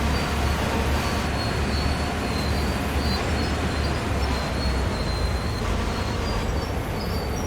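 A locomotive in a train yard in Train Sim World 2 rumbles steadily with a constant low mechanical drone and faint higher whine, even and unbroken throughout.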